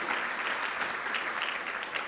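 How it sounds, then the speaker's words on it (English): Audience applause for board members at a luncheon on Latino entrepreneurship in Orange County, a dense, even wash of clapping from a room full of guests, sustained throughout without speech. "Please,"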